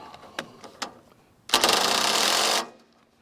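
An impact driver snugging up a fitting on a WoodMizer CookieMizer, with a few clicks and knocks before a loud, continuous buzzing hammer whirr of about a second, close up.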